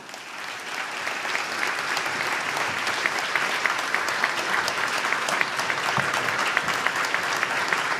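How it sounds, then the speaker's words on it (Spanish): Sustained applause from a large audience at a business conference in Argentina after the president's speech, dense, even clapping that holds steady for the whole stretch with faint crowd murmur beneath. "Señoras y señores, con este aplauso agradecemos y despedimos al señor presidente de la Nación"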